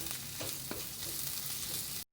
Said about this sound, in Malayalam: അപ്പോൾ നമ്മുടെ ഉള്ളിയൊക്കെ നല്ല വെളിച്ചെണ്ണയിൽ കിടന്ന് നല്ല മൊരിയുന്ന മണം വരുന്നുണ്ട്